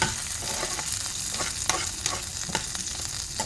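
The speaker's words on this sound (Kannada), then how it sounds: "ಅವೆಕ್ಕೆ ಬೇವು ಸೊಪ್ಪು ಬೊಕ್ಕ ಬ್ಯಾಡ್ಗಿ ಮಿರ್ಚಿ ಪಾಡ್ದಿತ್ತು ಫ್ರೈ ಮಲ್ತೊಂದುಲ್ಲೆ" Curry leaves and Byadgi chillies fry in hot oil, a close crackling sizzle with sharp pops and stirring clicks, no voices.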